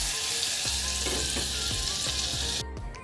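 Butter and garlic sizzle steadily in hot oil in a pan while cooking pav bhaji, with a dense, close frying hiss and a few soft stirring knocks, the sizzle easing slightly near the end.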